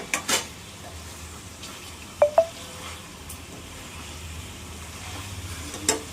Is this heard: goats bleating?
no